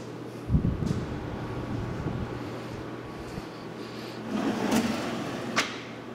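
A soft-close kitchen drawer coasting shut in a repaired house, heard as a soft slide and a muffled thump at the start and another soft glide later, all quiet under steady room noise.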